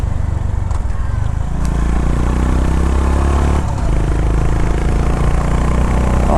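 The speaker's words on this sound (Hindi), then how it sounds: "Just here the exhaust sound." A Honda CB 350 RS motorcycle's exhaust burbles with a deep, loud, steady thump close by. The rumble holds nearly unchanged throughout, dipping briefly partway through.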